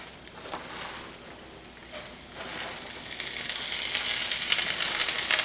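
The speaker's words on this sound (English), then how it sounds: "get some oil going, and now I'm just going to dump a lot of spinach in" A large load of fresh spinach hits hot oil in a pan and sizzles close up, the frying building from a moderate crackle into a louder, dense hiss as the leaves wilt, without any talk.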